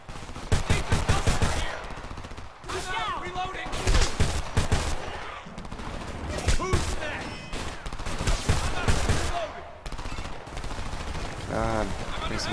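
Dense rapid gunfire crackles in bursts during a Homefront combat sequence, with machine-gun rattles and single sharp shots overlapping, under shouted voices, sometimes pausing briefly between volleys.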